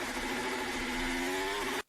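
A Formula 1 car engine whines at a steady high pitch, its tone sliding slightly as power is cut for lack of traction, then stopping abruptly.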